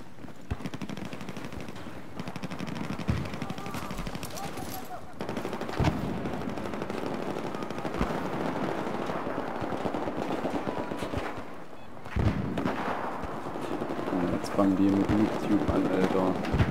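Gunfire in Battlefield 4 on the Dragon Valley map in Domination mode, steady bursts of automatic fire and scattered shots running the whole time, near and far, under someone talking.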